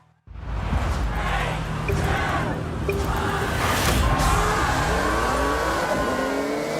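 Porsche 911 Rally Raid engine in Forza Horizon, loud close revving that climbs through rising gear sweeps as the car accelerates hard, with brief tire noise and no talk.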